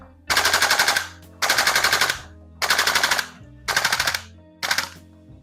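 A Salvo Precision MCX Spear LT V2 gas blowback airsoft rifle fires five full-auto bursts, each about a second long with short pauses between, loud and close with no talking.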